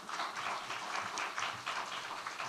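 A conference audience at DICON 2014 gives a lecturer a soft, steady round of applause. The clapping is fairly distant and continues evenly.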